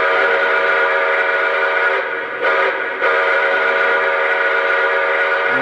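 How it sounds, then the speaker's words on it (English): Whistle of a Lionel NYC Pacemaker L-2a Mohawk model train set, a loud, steady multi-tone steam-style whistle held for several seconds with one brief dip in the middle, heard alone and close. "so here's the whistle"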